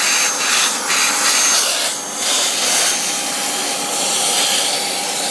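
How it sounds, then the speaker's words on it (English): A loud vacuum cleaner drones continuously with a rushing airflow, punctuated by brief scraping rustles as grass clippings from a John Deere JS26 mower are drawn through the nozzle. "The vacuum cleaner's easy, just with sheer airflow alone, it's just able to take it away."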